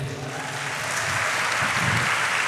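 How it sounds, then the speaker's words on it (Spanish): Audience applause, a dense, even wash of many hands clapping at steady volume throughout. "les pido un aplauso para ella"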